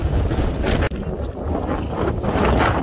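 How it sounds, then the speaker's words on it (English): Strong wind blows outdoors in a parking area of converted school buses, a loud, steady roar of gusts buffeting the microphone with no talking. "It's so windy out here."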